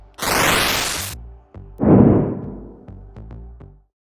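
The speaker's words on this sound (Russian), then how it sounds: "А вот звук перехода между уровнями." A bright noisy burst, then a lower whooshing blast, followed by a short run of sharp electronic pops, a synthetic level-transition effect from Katana ZERO.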